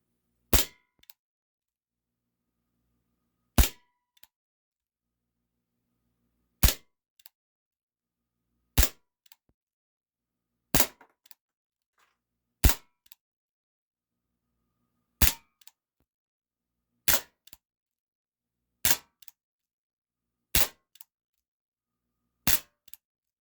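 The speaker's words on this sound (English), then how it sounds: "Not quite enough to penetrate the tin can, but we definitely hit the aluminum can pretty good" A CZ 75 P-07 Duty 4.5mm BB air pistol fires at an aluminum can: about a dozen sharp, loud cracks at steady intervals of roughly two seconds, each followed by a faint metallic tick of impact, with silence between.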